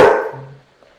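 A pet dog lets out a single loud, close bark that quickly fades into a quiet room during a wine tasting.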